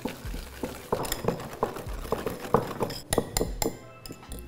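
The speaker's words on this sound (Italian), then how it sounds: "cominciamo a montare" Milk, sugar and cornstarch being whisked in a bowl for a Parisian flan, with a steady run of light clinking taps of the whisk against the bowl, fairly close and alone without talk.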